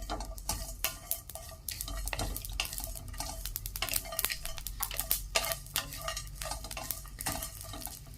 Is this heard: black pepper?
yes